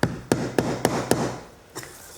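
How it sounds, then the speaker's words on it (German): A small hammer taps lead came down around glass pieces in stained glass work, five sharp, evenly spaced knocks followed by two softer taps, close and clear with no talk. "Andererseits es runterzuklopfen mit dem Hammer"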